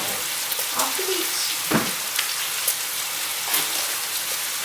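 Organic beef, about a kilo, sizzling steadily in a hot pan while being stirred, with a few louder scraping clatters from the utensil over the continuous frying hiss.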